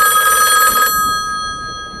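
A telephone ringing in a film, a loud close electronic trill that stops abruptly after under a second, leaving a faint hum.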